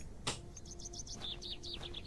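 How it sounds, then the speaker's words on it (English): Birds singing in the video game The Excavation of Hob's Barrow, a series of bright repeated chirps and short whistled phrases over a soft ambient background, preceded by a brief sharp click. "Birds singing."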